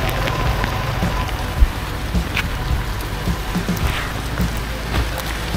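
Heavy rain pours steadily during a food delivery run in the Rama 4 area, a dense close hiss with low rumble and scattered drops, continuous throughout with no talking.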